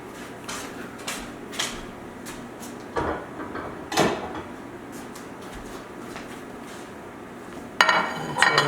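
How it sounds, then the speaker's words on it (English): Dishes and cutlery clinking while food is plated, a series of separate clatters and taps of metal on crockery spaced a second or so apart, with a sharper scrape and rattle near the end. "Let's plate the dish."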